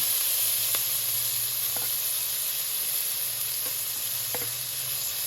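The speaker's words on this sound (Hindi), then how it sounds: "प्याज ब्राउन हो गया, अब इसमें टमाटर और मिर्च डाल दें।" Tomatoes and chillies sizzle in a pan with browned onions for a palak gosht dish, a steady close hiss of frying with a few faint clinks of stirring, no voices.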